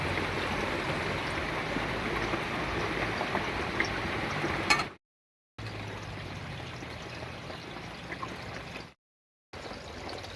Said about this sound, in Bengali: কড়াইতে বেশ অনেকগুলোই পকোড়া দিয়েছি এবারে ঢাকা দিয়ে দিয়ে প্রায় পনেরো মিনিট মতো ভাজা করে নেব